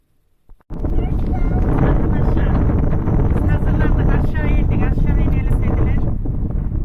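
Steady, loud wind buffeting the microphone outdoors in a park, a constant roaring rush that starts abruptly after a brief quiet moment and continues without pause.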